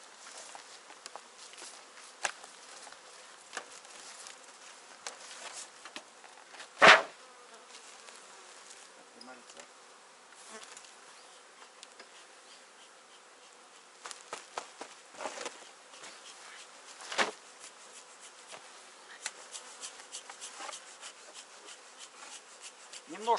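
Honey bees buzz softly at an open hive while honey supers are lifted off and smoke is applied, with scraping and wooden rubbing, scattered clicks and one sharp knock partway through.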